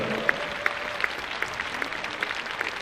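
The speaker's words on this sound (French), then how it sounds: "N'hésitez pas à les applaudir." An arena crowd at the Arles bullring applauds the gardians during their festival, clapping moderately and somewhat distant, punctuated by a few sharp, regularly spaced claps close by.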